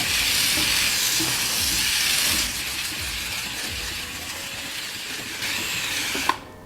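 A Bissell SteamShot Deluxe handheld steam cleaner steams a surface with a loud, steady hiss that eases slightly partway through and carries on, ending with a brief click.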